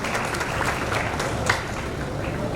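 Steady applause from an audience at a talent award ceremony in Barwani fills the whole stretch, a dense wash of clapping at even volume with no voices standing out.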